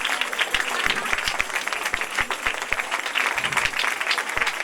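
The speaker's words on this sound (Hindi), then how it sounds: "जोरदार तालियां उनके लिए" An audience at a church appreciation evening for Sunday school teachers applauds loudly and continuously, with dense clapping and a few sharper individual claps standing out throughout.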